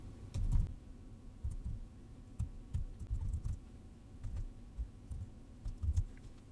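Soft clicks of typing on a computer keyboard come in short irregular bursts while code is being written, close and fairly quiet, with no talking.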